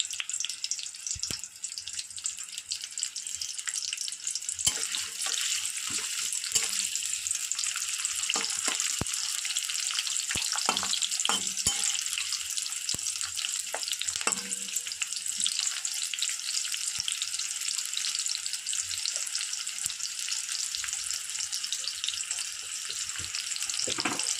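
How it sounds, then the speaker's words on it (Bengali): Sliced onions frying in a kadai for vegetable gravy pasta give a continuous, even hiss of sizzling oil with occasional soft stirring knocks, close and steady, no talking. "পেঁয়াজটা সবগুলোই আমি কড়াতে এখন দিয়ে দিচ্ছি।"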